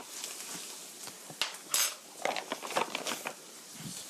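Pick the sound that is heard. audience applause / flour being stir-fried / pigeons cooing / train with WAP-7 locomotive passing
flour being stir-fried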